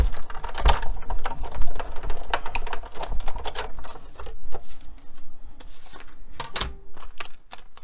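Dense clicking, crunching and rubbing as a Stampin' Up! Big Shot die-cutting machine is cranked with an embossing mat and die pressing through paper, continuous and close with irregular sharp ticks throughout.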